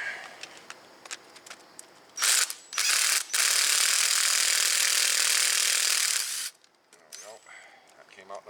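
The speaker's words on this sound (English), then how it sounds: "So now we got to get this one bolt out of here." A ratchet works a bolt loose under a 2012 Subaru Outback 2.5L during steering rack repair: a few short clicking strokes, then a long, loud, steady ratcheting run of several seconds, close up, with quiet handling noises around it.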